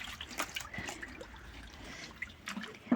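Cold water sloshes and trickles while a broom sweeps through it outdoors in late autumn, a steady faint wet swishing with small drips and a sharper splash at the end.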